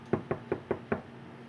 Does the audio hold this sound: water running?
no